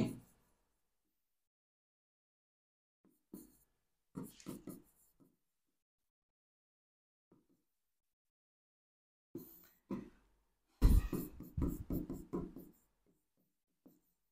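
Someone writes sentences on a classroom board, with short bursts of scratchy strokes broken up by long silences. The last and loudest flurry of writing comes near the end.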